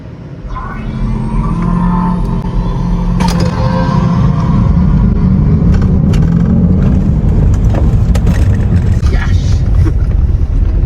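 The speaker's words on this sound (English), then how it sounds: "listen to this launch control." A Mercedes-Benz EQS 53 electric car, rated at 500 kW and over 1,000 Nm, launches hard under launch control, giving a loud, steady, broadband roar of road and wind noise with a low rumble that holds throughout.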